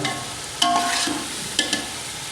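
Onions and masala frying in a pan for masoor dal, a close steady sizzle broken by two sharp spatula scrapes as the mix is stirred, no talk.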